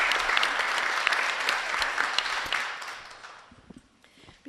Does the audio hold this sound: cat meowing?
no